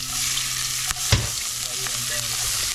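Seasoning fries in a hot pan: a close, steady sizzle with a couple of brief clinks and stirring scrapes of a utensil, no talking.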